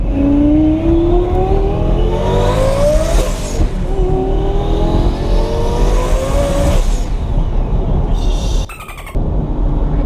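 A twin-turbo Lamborghini engine revs hard and climbs in pitch through several gear shifts, roaring loudly up close with a whine and a brief cut near the end.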